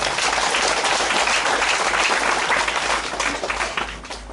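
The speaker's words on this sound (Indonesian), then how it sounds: "Tepuk tangan untuk mereka" Crowd applause at a thanksgiving Mass for a newly ordained priest in a parish church, dense sustained clapping from many hands that fades slightly toward the end.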